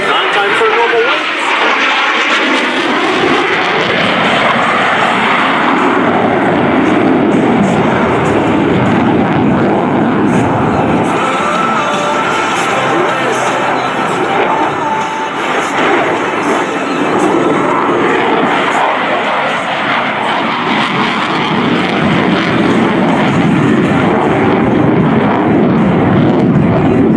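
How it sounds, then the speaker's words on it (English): An F-16 Fighting Falcon jet pulling a tight 9G turn at an air show, a loud, sustained broadband roar that swells and holds across the whole span with no pauses. "Watch now as Rebel shows you just how exceptional the F-16 is in a 9G turn."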